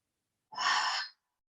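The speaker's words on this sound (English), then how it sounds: "take a deep breath in through the nose" A single deep inhale through the nose during a calming yoga class, a soft, airy rush of breath lasting about half a second, close and quiet, with no talking.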